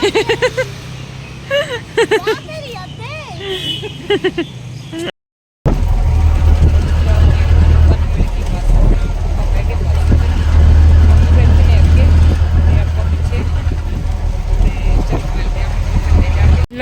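A steady low engine rumble with road noise, as from inside a moving bus, after a brief stretch of people talking.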